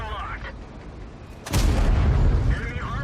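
IS-3 heavy tank cannon fires in a video game, a single loud, close boom with a long rumbling tail that lingers for over a second before fading.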